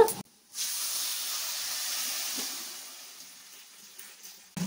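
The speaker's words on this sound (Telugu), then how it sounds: "తాలింపు బాగా వేగిన తర్వాత స్టవ్ ఆఫ్ వేసుకొని పప్పు పోసుకోవాలి." Cooked dal for dosakaya pappu is poured into hot tempering with the stove just turned off, a sudden hissing sizzle that swells and then slowly fades over several seconds, close to the pan.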